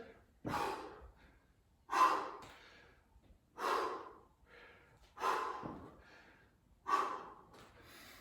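Deep, audible breaths during a hip stretch exercise session, five slow inhale-exhale cycles spaced a second or so apart, close and fairly soft, without talk.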